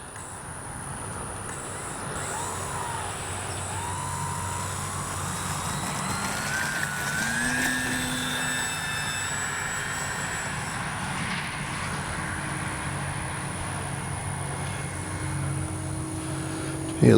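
An E-flite P-51D radio-controlled warbird model plane flies on a windy day, its steady motor drone holding for the whole stretch at moderate distance over wind noise.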